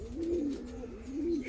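Racing pigeons at an outdoor loft give soft, low, rolling coos in two short bursts, close and clear against faint background noise.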